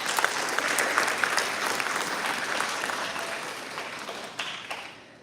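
An audience at a dance arangetram breaks into sustained applause, a dense even wash of clapping that holds loud and gradually fades toward the end.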